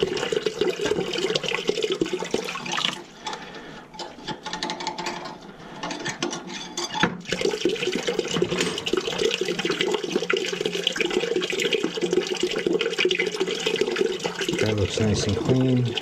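Water gushes steadily out of the bottom valve of a neglected, plugged-up steam boiler where the sight glass sits, a continuous rushing flow that stays close and fairly loud throughout.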